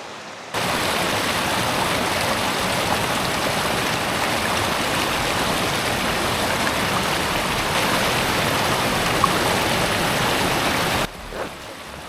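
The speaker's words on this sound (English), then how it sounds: "Found this beautiful stream, one of like 4 or 5 I've passed on this trail." A forest stream on the Nicholson Hollow hiking trail rushes in a loud, steady broadband wash for about ten seconds with no voices, then cuts off abruptly.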